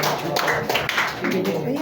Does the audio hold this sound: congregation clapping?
yes